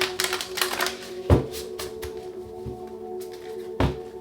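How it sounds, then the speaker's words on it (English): Tarot cards being shuffled, with crisp riffling bursts and a few sharp taps as the deck is squared on a surface, close and fairly quiet. "Two more shuffles."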